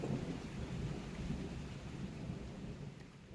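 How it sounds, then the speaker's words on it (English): Steady rain falls with a continuous soft hiss and low rumble, no voices, moderately quiet throughout. "Only the sound of rain remained."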